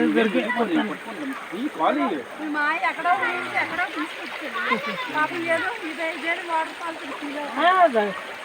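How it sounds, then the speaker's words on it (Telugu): Steady rushing water from a waterfall, a continuous wash of noise beneath people talking close by. "water falls"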